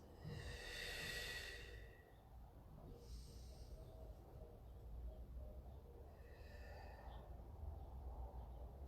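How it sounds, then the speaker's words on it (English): Slow, deep breathing during a pilates session, air drawn in through the nose and pushed out through pursed lips, soft and faint, with a few breathy exhales spaced apart and no talking. "taking nice deep breaths in through the nose, out through a pursed lip"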